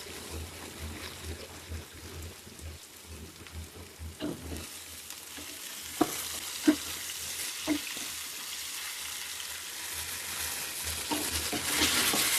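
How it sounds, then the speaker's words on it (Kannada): Raw banana pieces sizzling in a spoon or two of oil in a pan, a soft continuous hiss with occasional stirring clinks and scrapes, faint and close, ending with a brighter burst of sizzle. "ಇವಾಗ ಇದನ್ನ ಫ್ರೈ ಮಾಡ್ಕೊತೀನಿ"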